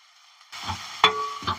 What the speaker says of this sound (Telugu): పచ్చి వాసన పోయిందాకా ఇట్లా మనం కలుపుతూనే ఉండాలి.